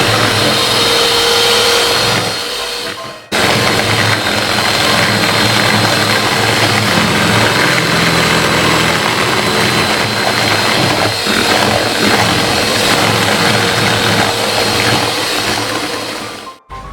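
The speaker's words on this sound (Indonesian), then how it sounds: "Kita mixer dengan kecepatan yang paling tinggi." Electric hand mixer beating plain eggs without sugar at its highest speed, a loud, steady high-pitched motor whir that stops briefly for a moment early on and then runs continuously until cutting off at the end.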